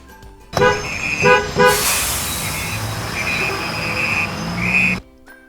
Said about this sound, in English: While we sat in the car waiting for Dad, I honked the horn.